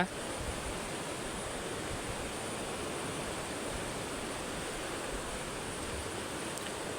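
Aghanashini river in the Malenadu hills, swollen and running high after heavy monsoon rain, gives a steady, dense rushing roar of water that holds even and unbroken throughout, with no voices over it.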